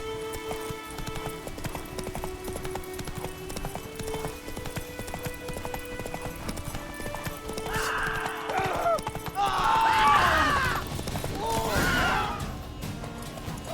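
Hooves of Roach, the horse in The Witcher 3: Wild Hunt, clip-clop in a steady rhythm over an ambient game backdrop, joined midway by louder crashing and clattering effects.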